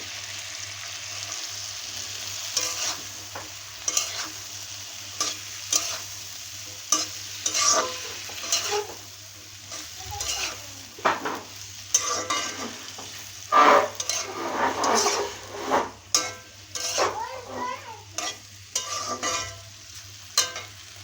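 Malabar spinach frying with shrimp in a pan as a spoon stirs it repeatedly, scraping and clinking against the metal over a constant sizzle, close and fairly loud throughout.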